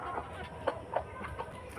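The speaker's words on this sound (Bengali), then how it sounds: "আর এখানে আমাদের মুরগিগুলো খাচ্ছে সব" Soft, scattered clucks from a few feeding chickens over a low background murmur, with several brief calls spaced irregularly.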